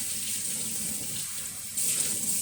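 Very hot water runs steadily from a kitchen faucet while bread dough is being prepared: a continuous close hiss of flowing water that grows slightly louder near the end, with no talking.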